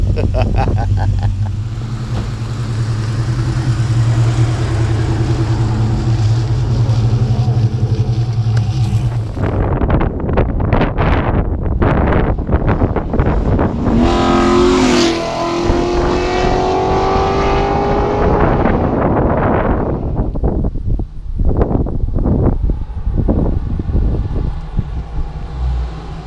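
A Coyote engine-swapped car is driven hard on its first drive after a tune, the engine roaring loudly inside the cabin with surging acceleration and wind noise, a brief drop in pitch partway through, and speech at the start.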